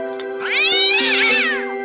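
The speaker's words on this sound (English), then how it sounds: "One morning, the stepmother's mean cat tried to catch Gus" A mean cartoon cat in a Cinderella cartoon lets out one long, loud, rising and falling meow, clear and close over a steady background hum.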